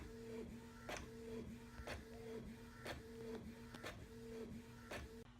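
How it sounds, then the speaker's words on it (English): Home inkjet-style printer running a print job of a book picture, with a steady mechanical whir and repeated rhythmic clacks of the print head and paper feed roughly every second, close and continuous. "my printer is right there. It's going to shoot out the picture of the book."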